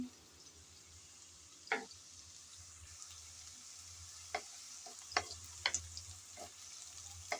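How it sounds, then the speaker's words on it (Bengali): Onions frying in oil in a pan until light brown, a soft steady sizzle with occasional spoon scrapes and clicks against the pan, fairly quiet and close. "কিছুক্ষণ নেড়ে চেড়ে পেঁয়াজ হালকা ব্রাউন কালার করে ভেজে নিলাম"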